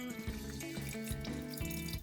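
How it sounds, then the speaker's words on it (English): Steady water pours from a kitchen tap into a bowl of cooked green peas to chill them, a continuous close splashing rush with no speech. "Add water again."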